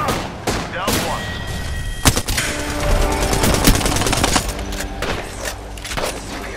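Dense gunfire from the video game Apex Legends, overlapping shots, impacts and thumps in a busy, loud mix with game effects and voice chatter layered throughout.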